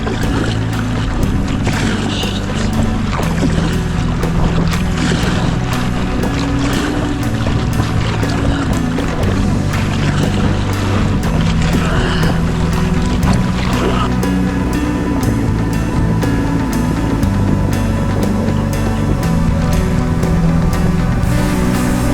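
Choppy Ganges river water slapping steadily against a packraft, a loud continuous wash with wind noise and irregular splashes throughout.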